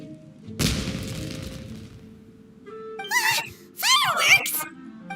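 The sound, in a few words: fireworks exploding in video game Genshin Impact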